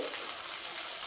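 Pointed gourd filling frying in hot oil in a wok, a steady close sizzle with faint stirring, no voices.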